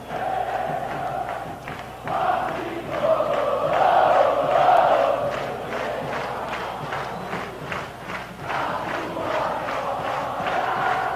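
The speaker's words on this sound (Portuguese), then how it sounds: "O hino do tricolor cantado em uníssono pela torcida do São Paulo" São Paulo supporters at the 1992 Copa São Paulo de Futebol Júnior final against Vasco da Gama sing the tricolor club anthem in unison, a broad crowd chorus swelling and steady through the stadium with a pulsing rhythm, no commentary over it.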